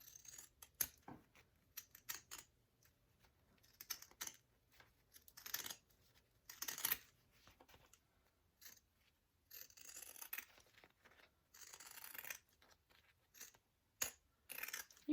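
Scissors snipping through fabric seam allowance while sewing a wristlet, a series of quiet irregular crisp cuts and rustles, close by with short pauses between bursts and no talk.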